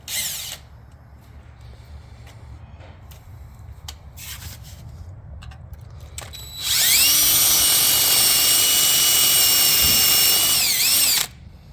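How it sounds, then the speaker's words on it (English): A power drill whines loudly and steadily for several seconds after some faint scraping and clicking, then cuts off abruptly. "You can run your drill bit in there again."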